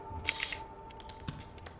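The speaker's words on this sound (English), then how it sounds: "Damn, I am slow typer." Keys tapped on a computer keyboard during a slow typing session in a Dead Letter Dept game, a short burst of clicks near the start followed by a few sparse, quieter keystrokes.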